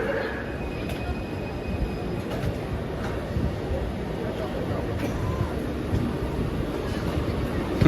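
A driverless train pulls into a station in Kuala Lumpur, producing a steady, broad low rumble with faint squeal and wind buffeting throughout, growing slightly louder toward the end.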